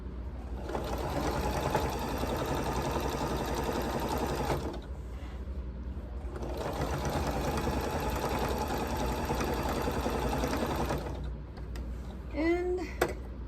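A sewing machine sews down quilt binding in two long, steady runs separated by a brief pause, close and loud, with a short rustle and faint voice near the end.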